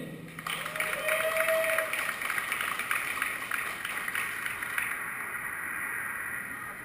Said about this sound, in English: Big applause for Bill.